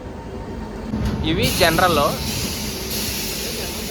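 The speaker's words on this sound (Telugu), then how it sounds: "ఫైనల్లీ మా ట్రైన్ అయితే వచ్చింది." A passenger train pulls in at platform 9 of a busy railway station, a broad hiss and rumble swelling and then easing, with people talking nearby.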